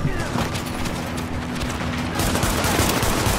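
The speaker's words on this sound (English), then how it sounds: "I think I'm shooting him." Rapid gunfire from a firefight in Tom Clancy's The Division rattles continuously and loudly in dense overlapping bursts, with voices talking over it.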